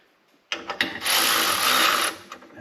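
A handheld power tool drives a bolt into a mounting hole on a John Deere 3039R tractor: a few short clicks, then a loud, close whirring buzz of about a second that cuts off, followed by faint clatter.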